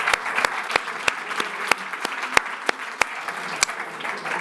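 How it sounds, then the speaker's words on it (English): An audience applauds after a lecture, giving a steady, moderate patter of many hands with a few sharp individual claps standing out, with no voices over it. "Join me giving him a great round of applause."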